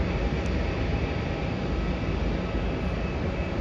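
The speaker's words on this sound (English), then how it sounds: "That is Western Australia Boeing 737." Virgin Australia Boeing 737 landing at Melbourne Airport after a flight from Canberra, a steady, loud broadband jet roar that holds constant throughout without any talk.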